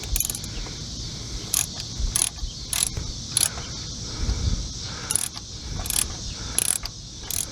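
Socket wrench working in the engine bay of a Dodge Caravan, clicking ratchet strokes in short irregular bursts with pauses, close and metallic.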